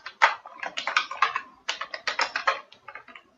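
Fast, uneven typing on a computer keyboard while writing animation code, crisp close key clicks in quick bursts with brief pauses.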